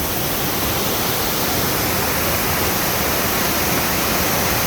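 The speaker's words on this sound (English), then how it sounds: "Check that waterfall out." Burgess Falls, a waterfall heard from very close, a loud, unbroken broadband roar of crashing water that holds steady throughout with no voices.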